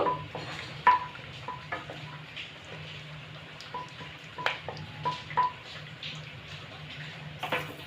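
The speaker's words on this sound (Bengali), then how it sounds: "এলাচ দারচিনি আর একটা তেজপাতা এই দুটো তেজপাতা দিলাম একটু এগুলোকে নেড়ে নেব" Whole spices, cardamom, cinnamon and two bay leaves, fry in oil as a spoon stirs them, a faint low sizzle broken by intermittent light scrapes and taps on the pan.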